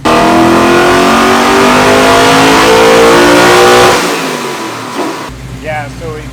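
Loud engine of the Lemon Twist car revving hard on a dyno, pitch climbing steadily through a sustained pull before dropping off as the throttle closes, with voices mixed in.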